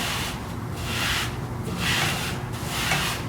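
A hand smooths a fabric tote bag flat on a textile screen printing press, producing soft, repeated rubbing swishes in three broad sweeps, close and quiet, with no voices.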